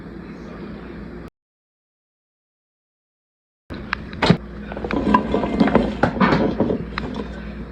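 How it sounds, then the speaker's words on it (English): Dry beans pour and rattle into a pressure cooker in a dense clattering scatter of small hits, close and moderately loud, after a short silent gap, with no talking. "We're going to add the beans to the pressure cooker."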